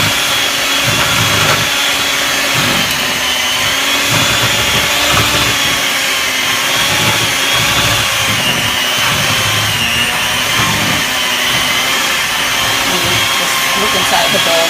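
An electric mixer creams soft room-temperature butter and sugar together for a Sprite pound cake, a steady loud whirring drone that holds continuously from start to finish.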